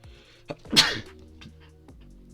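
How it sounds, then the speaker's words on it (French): A single loud, close sneeze bursts out after a brief sniff, with a sharp breathy peak and a short fading tail; faint rustling comes before and after. "je vais éternuer"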